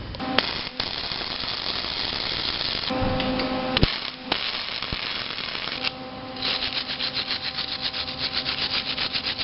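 A 3/8 steel rod is cut for spring work on a 1987 Toyota 4Runner, giving a continuous harsh grinding and rasping that shifts partway through into a rhythmic rubbing stroke, loud and close over a steady hum, with no voices.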